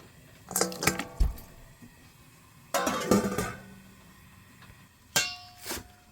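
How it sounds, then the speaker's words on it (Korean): Minced garlic tipped into a pan over medium heat in a home kitchen: a few soft, squishy drops and light clinks of utensils against the pan, in short separate bursts with quiet gaps between. "다진 마늘을 넣고요"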